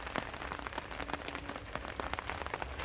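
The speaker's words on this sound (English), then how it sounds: "You guys can probably hear the rain on the umbrella" Steady rain patters on an umbrella during woodland mushroom foraging, a dense close hiss broken by frequent sharper droplet taps, with no talking.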